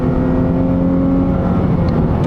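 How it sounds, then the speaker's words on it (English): A 2018 Dodge Charger SXT V6 engine on automatic, revving steadily toward redline, loud and droning close up with a sustained tonal whine and no talk. "Even in automatic, you can see the car revs all the way down to Redline."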